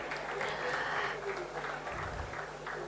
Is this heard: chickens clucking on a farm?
no